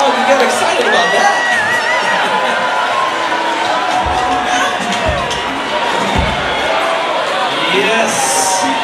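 A concert crowd at The Catalyst in Santa Cruz cheers and whoops loudly and continuously for a band's tuba, a dense roar of voices with shouts rising over it.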